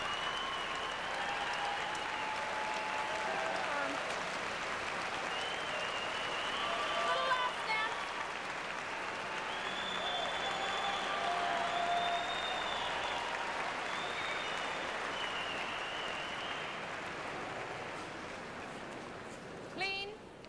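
A crowd at the 2003 Ford World Women's Curling Championship, in a Denmark versus Canada draw, applauds in a long, sustained wash of clapping that slowly swells and fades, with faint voices mixed in.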